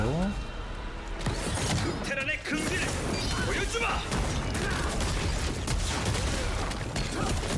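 Bombs being thrown in the Lost Ark video game during a boss-fight destruction phase, with dense, continuous explosive bursts, crashes and mechanical clatter running loud throughout over layered game music and effects.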